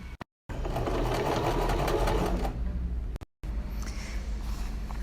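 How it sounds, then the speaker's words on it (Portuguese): A sewing machine stitches a seam on a child's dress with pinned ruffles, its needle chattering in a fast, loud, continuous run, cut by two brief silent gaps. "Agora, a gente vai costurar."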